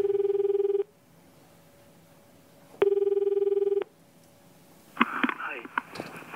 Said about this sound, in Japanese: 4人目の挑戦者に電話。